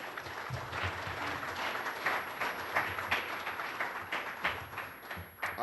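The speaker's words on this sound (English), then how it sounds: "I think that deserves a round of applause." A room full of people at a general membership meeting give a round of applause, a continuous patter of many hands clapping at moderate level, swelling slightly toward the end.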